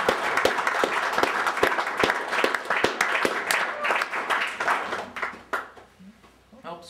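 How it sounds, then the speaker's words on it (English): Audience clapping at a local political announcement on city education and Board of Ed finances: a burst of scattered, fairly close handclaps that thins out and fades away toward the end. "Thank you for clapping though."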